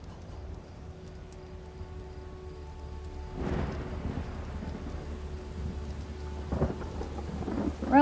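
Steady rain hisses throughout in the video game Enshrouded while a low rumble of thunder rolls in partway through, followed by another softer crack later on.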